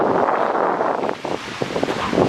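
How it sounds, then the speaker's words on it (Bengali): Strong wind gusts across the microphone outdoors at Vogel State Park, a loud, dense, roaring rush that dips briefly and returns, with no voices. "প্রচুর বাতাস, ঠান্ডা করে দিল শরীরটা।"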